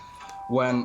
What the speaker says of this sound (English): Sorry about that's my phone going off.